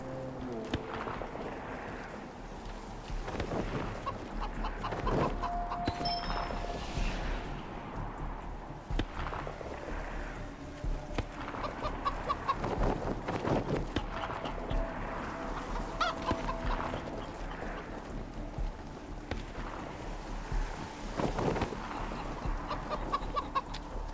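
Chickens clucking in the video game Wasteland 3, a run of repeated clucks over steady game ambience with faint voice bits, moderately quiet.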